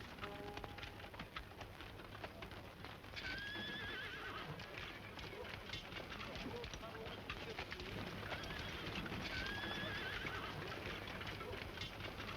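Horse in a film neighing twice with high whinnies while hooves clip-clop over a dense, hissing rain-like background, with faint voices underneath.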